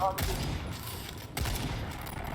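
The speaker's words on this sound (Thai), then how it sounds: "ฉันยิงที่จุดอ่อนมัน" Rapid gunfire bursts in the co-op shooter Second Extinction, loud and continuous with heavy low-end weapon blasts, two sharp volleys about a second apart, with faint voices mixed underneath.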